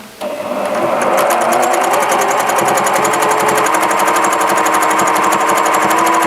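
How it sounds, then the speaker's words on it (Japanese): A Janome 780DX sewing machine starts up and stitches at high speed, a loud, close, rapid mechanical chatter that holds steady for several seconds with no speech over it. "もう一回ここから縫い始めた時にまた縫えてるからなんですけど"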